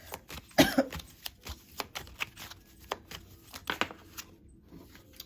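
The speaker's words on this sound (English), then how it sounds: "Shuffle again." Tarot cards are shuffled by hand in a quiet room, a close series of soft riffling and slapping bursts that come in an uneven rhythm.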